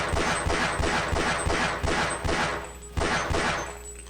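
Pistol fired repeatedly at Marines in Half-Life, a loud close string of sharp shots about every third of a second over steady game background noise, with no talking.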